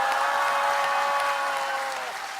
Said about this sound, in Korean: 우리 박수로 함성을 지르면서 한번 해봅시다